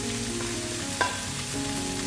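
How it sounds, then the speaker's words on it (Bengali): Pieces of fried pomfret fish and cauliflower sizzle steadily in spicy masala in a pan, a close, continuous frying hiss with a brief clatter of stirring. "দিয়ে দেবো ভেজে রাখা মাছের পিসগুলো।"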